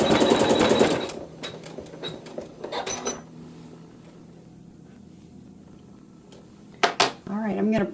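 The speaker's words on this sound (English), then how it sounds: "we're going to stitch a seam" A sewing machine stitches a seam in a strip of fabric with neutral thread, starting with a loud rapid run, then scattered clicks and pauses, and resuming briefly near the end, close by with no talk.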